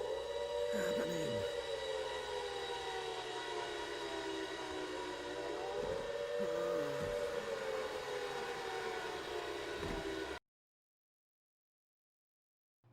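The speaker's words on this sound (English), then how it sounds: "Oh, the sirens. What is happening?" Sirens wail in the Silent Hill Origins video game, a long rising and falling drone that runs steadily for about ten seconds over a low rumbling hum, loud and continuous before cutting off abruptly.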